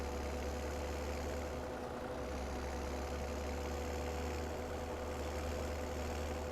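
A tractor engine idles in Farming Simulator 17, a steady low rumbling drone that holds evenly throughout with no talking over it.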